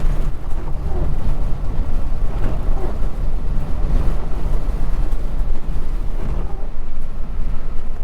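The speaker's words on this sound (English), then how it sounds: "It's gotten windy." Strong wind gusts buffet the microphone on a road in Idaho, a continuous low roaring rumble with surging blasts, loud and close, no talk.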